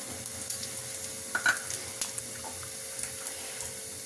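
Oil sizzles softly and steadily in a pan as moong dal, cumin and dried chillies are tempered, with a few faint stirring clinks and scrapes over the constant frying hiss.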